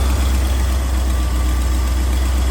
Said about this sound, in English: That exhaust knock or tick you hear is ticking right out of here.